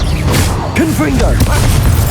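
A Confringo fire spell goes off in Hogwarts Legacy: a booming magical blast and crackling effects over a busy mix of combat sounds, with a character's voice heard alongside.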